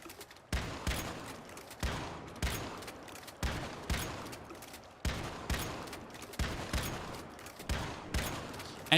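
Doombringer shotgun in Once Human firing repeatedly, about nine loud, sharp blasts spaced roughly a second apart in an even rhythm, each with a short decaying tail.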